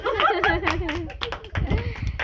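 Guests at a birthday party clap and laugh together in a short, close burst of applause, mixed with cheerful voices.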